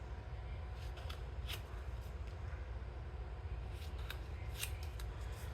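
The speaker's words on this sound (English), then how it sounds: "a regular piece of paper and putting it on there like this, and then cutting it off." Scissors snip through a regular sheet of paper while making a mini fold-out journal, a series of crisp, close cutting strokes at a steady rhythm over a soft background rustle.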